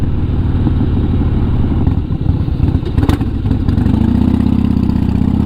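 A 41-year-old Harley-Davidson Shovelhead motorcycle engine idling, a loud, close, uneven loping rumble with mechanical clatter that holds steady throughout.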